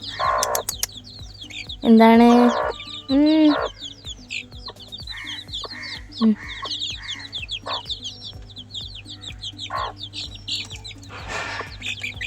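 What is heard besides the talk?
chicken chicks chirping and clucking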